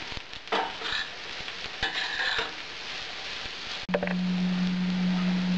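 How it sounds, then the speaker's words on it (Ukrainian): Carrots and onion stewing in a pan, a soft steady sizzle with occasional scraping stirs and clinks against the pan, and a faint steady tone joining in near the end. "Цибуля потушилася і даємо моркву. тушимо разом з цибулею."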